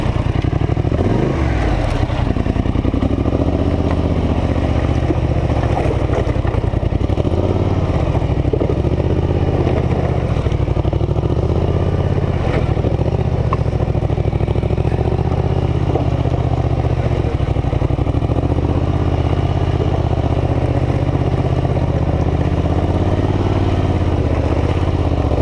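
A Scrambler 850 four-wheeler ATV engine runs steadily while the machine drives across a thick frozen pond in a winter storm, a loud continuous mid-pitched drone with some rattling and slight revving throughout.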